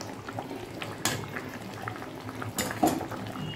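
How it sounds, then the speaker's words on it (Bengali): Fish curry with papaya boils in a pot on the stove, a steady close bubbling and sputtering with a couple of brief louder pops, and no voices. "এবার হচ্ছে আর একটু ফুটবে, ফুটলেই মাছের ঝোলটা রেডি।"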